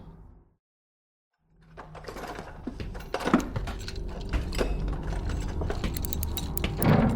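Mechanical clicking, rattling and small metallic scrapes as a screwdriver works loose the front cover of a device, close and busy after a brief silence at the start, with no talk.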